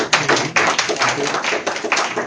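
A room of people at a Power To Vote campaign event for BAME communities claps enthusiastically, dense overlapping hand claps close and loud, holding steady for a couple of seconds.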